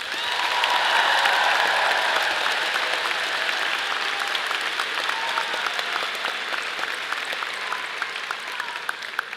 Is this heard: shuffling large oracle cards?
no